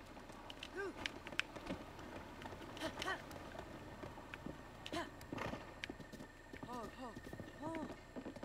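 Rhythmic hoofbeats of a horse galloping in The Legend of Zelda: Breath of the Wild, a brisk repeating clip-clop close by, with snorts and occasional voice-like calls mixed in and quiet talk over the top.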